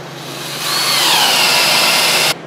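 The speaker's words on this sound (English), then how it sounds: "So I'm going to drill my hole." A power drill bores a hole through a wooden cornhole board, a loud whining motor rising as the bit bites in, grinding steadily for about two seconds before cutting off abruptly.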